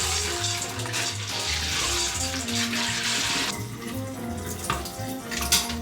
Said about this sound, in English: Fill this up with water again.